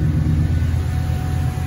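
A steady, deep V8 idle from a 2-valve Saleen with louder mufflers and a throaty exhaust rumble, constant and fairly loud with no other sounds.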